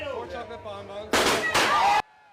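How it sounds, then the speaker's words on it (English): Confetti cannons fire at a Fantastic Four film premiere on a blue carpet, two loud sustained whooshing blasts with a crackling spray, cutting sharply over crowd and voices before dropping away. "Confetti cannons fired, fans screamed, and cameras flashed as the Fantastic Four reunited in full force"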